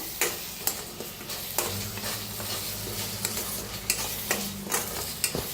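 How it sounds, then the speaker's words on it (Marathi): Spice masala with turmeric and red chili powder roasting in a pan, a soft continuous sizzle under repeated scraping stirs, with a few sharper clinks from the spoon against the pan. "एक मिनिटभर असं छान असं भाजून घ्यायचा मसाला"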